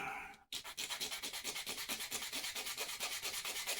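Sandpaper rubbing back and forth over a glued wooden repair, a steady run of quick, even scratchy strokes close up after a brief pause, with no talking.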